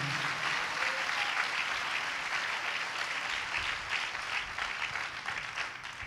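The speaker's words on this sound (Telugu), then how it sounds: "చప్పట్లు కొట్టి దేవుడు మహింపరుద్దాం గట్టిగా" A church congregation claps hands loudly together in a continuous, dense burst of applause that carries on steadily, slightly fading toward the end.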